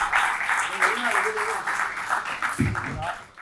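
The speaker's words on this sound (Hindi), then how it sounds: "जोरदार तालियों के साथ इस्तकबाल कीजिए" Audience applause at a mushaira, greeting poet Bal Mohan Pandey as he comes forward to recite; a dense, steady wash of clapping runs throughout, with a voice faintly over it.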